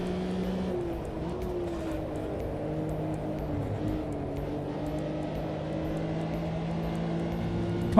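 A Porsche race car in Automobilista 2 accelerates hard, its engine holding a steady, close, continuous drone for the whole stretch with no talking over it.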